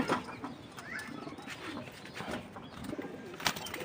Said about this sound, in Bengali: এই যে আমার মাদি কবুতরগুলো